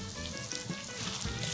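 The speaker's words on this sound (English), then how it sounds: "I always love that sizzle" Vegetables sauté in a pan with neutral oil, giving a steady, close, bright sizzle with faint crackles and no speech.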